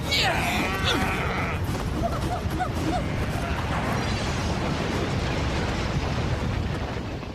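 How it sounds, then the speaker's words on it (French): Explosion in a Highlander animated cartoon episode: a loud, sustained rumbling blast with crashing debris, filling the whole stretch at high level, with a brief voice or cry near the start. "Quentin, je veux savoir d'où venait l'explosion."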